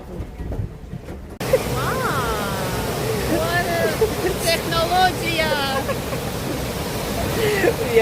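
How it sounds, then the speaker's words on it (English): Upper Düden Waterfall in Antalya gives a steady broadband rush of falling water that starts abruptly and stays loud and constant, with people talking and background chatter throughout. "We are doing Upper Düden Waterfall, and this is the last part of it."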